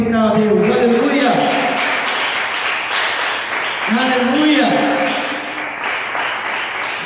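Church congregation claps steadily in a continuous patter, partly masked by a loud preacher's voice speaking over it throughout.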